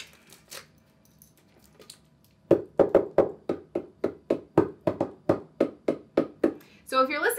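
A homemade drum made from a Tupperware tub is tapped by hand in the middle of its head, producing about fourteen short, even, hollow taps in a steady rhythm after a quiet opening, with a brief rustle at the end.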